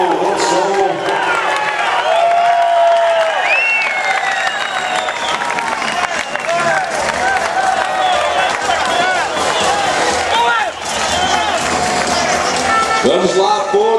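Stadium crowd applauding and cheering for Porto, a dense, sustained wash of clapping under an excited voice on a loudspeaker.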